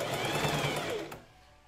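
A sewing machine stitching the first sleeve of a blouse, a close, steady whirring run of rapid needle strokes that slows and stops near the end, with no talk.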